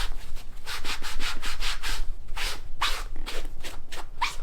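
A cleaning pad rubs back and forth across the sole of a used shoe, giving a rhythmic series of close, dry scrubbing strokes with short pauses between them and no talk.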